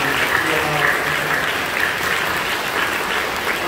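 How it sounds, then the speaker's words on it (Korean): A church congregation applauds during a service to welcome first-time visitors, a loud sustained wash of clapping from a full room that holds steady throughout. "여러분들 박수로 뜨겁게 환영해주시면"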